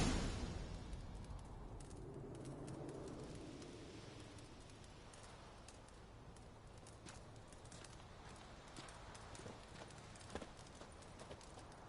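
A horse trots in the video game The Witcher 3. Its hooves make a soft, steady clip-clop over a quiet ambient background.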